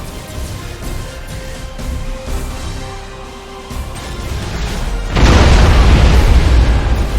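Torpedo blasts in a space warfare video game, with a low rumbling background that erupts into a loud, sustained explosive roar for the final two seconds.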